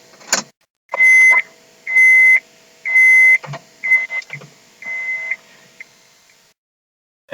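A Honda S2000 AP1 with its ignition switched on gives a series of clear electronic beeps, five or six sustained tones in a regular rhythm, mixed with soft clicks and relay sounds in a quiet car.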